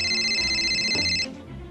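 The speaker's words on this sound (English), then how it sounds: "If the phone rings, you answer it!" A short electronic phone ring, a bright steady tone that sounds for about a second and then cuts off, leaving quiet room noise.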